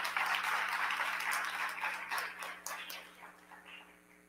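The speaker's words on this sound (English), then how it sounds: "They did a great job, so another round of applause." Scattered audience applause at a school board meeting, fairly faint and steady at first, then thinning and fading out over a few seconds, with a low electrical hum underneath.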